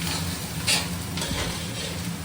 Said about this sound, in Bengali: এটা ভাজা শুরু হয়ে গেছে।